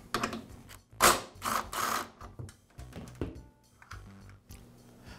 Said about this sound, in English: I'll use an impact wrench to remove the shoulder bolt.